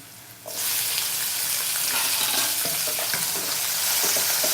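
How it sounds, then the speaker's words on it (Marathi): Tomatoes hit a hot pan for masale bhaat and burst into a loud, steady sizzle after a brief quiet moment, frying continuously and close up with no voices. "टोमॅटो सुद्धा चांगला परतून घ्या"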